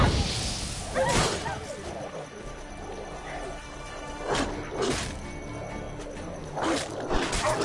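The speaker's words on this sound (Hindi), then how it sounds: "इन वाइल्ड डॉग को तो मैं जला दूंगा।" Wild dogs growling and barking during a night attack in The Witcher 3, with sharp bursts and crashes at irregular intervals over steady background game noise.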